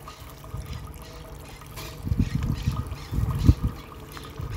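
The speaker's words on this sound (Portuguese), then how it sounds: "Vamos deixar escorrer um pouquinho aqui" Pork fat drains and trickles from pressed pork cracklings cooked in a large pan, producing soft, close dribbling and splattering pours that grow busier toward the end. No one speaks.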